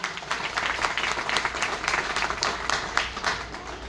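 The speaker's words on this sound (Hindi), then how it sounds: "जोरदार तालियों के लिए।" Steady, dense applause from a seminar audience at an RCM achievers' event in Dehradun, many hands clapping continuously at an even level for the whole stretch.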